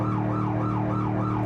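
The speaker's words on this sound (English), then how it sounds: "So we're just gonna keep this siren on." A car siren in the BeamNG driving game wails in a steady, rapid rising-and-falling cycle, loud and continuous over a low engine hum.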